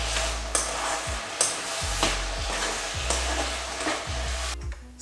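Kung Pao chicken with peanuts stirred in a hot frying pan, a steady close sizzle broken by a few scraping stir strokes, with no voices.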